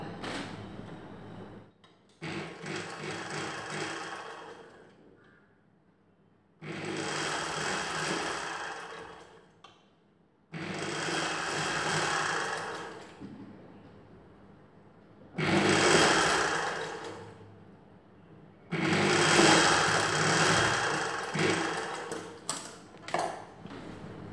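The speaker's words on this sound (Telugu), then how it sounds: "ఈ జాయింట్కి పై వైపున కుట్టు వేసుకోవాలి" A sewing machine stitches a seam on a single katori blouse in five separate bursts, each a few seconds long, with short quiet pauses between runs; it is close and steady, and no one speaks.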